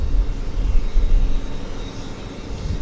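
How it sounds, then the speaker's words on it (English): A jet airliner rumbles past at Vancouver Airport, a steady low roar that holds loud for the first half then eases slightly as it moves on, with no talk over it. "We'll wait for the aircraft right about there"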